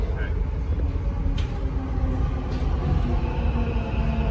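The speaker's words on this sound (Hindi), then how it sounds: "जैसे कि अभी आप देख सकते हैं ट्रेन आ रही है" A Dubai Metro train, driverless and electric, pulls into a station with a steady low rumble and a faint hum throughout, a couple of brief higher hisses standing out; a voice speaks over it.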